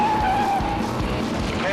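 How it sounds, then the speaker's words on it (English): A race car skids through a corner on a short track, a loud engine roar mixed with a rising tire squeal, close and continuous throughout. "The car's not holding in the corners any good."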